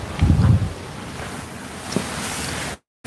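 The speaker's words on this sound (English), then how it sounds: "You can just hear the waves." Ocean waves heard at night from a balcony in pitch darkness, a steady broad wash of surf with a louder gust-like swell at the start and soft wind rumble, no voices, cutting out briefly near the end.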